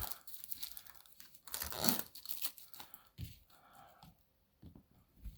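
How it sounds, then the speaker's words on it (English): Cardboard terrain pieces for tabletop role-playing games are pulled from sturdy punch cards, giving a run of close tearing and crinkling sounds with one louder rip near the middle, followed by quieter rustles and light taps. "I'm going to show how you pull the cards apart, pull pieces off."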